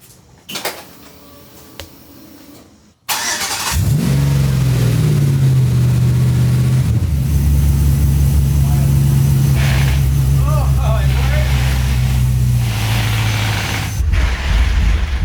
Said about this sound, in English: The truck runs.